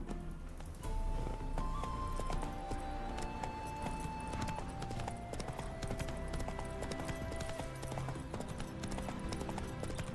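Clip-clopping hooves of a horse in The Witcher 3 keep up a steady trotting beat, mixed with game music and a faint whinny.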